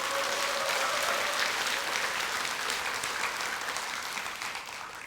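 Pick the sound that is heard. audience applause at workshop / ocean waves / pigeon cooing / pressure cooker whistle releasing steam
audience applause at workshop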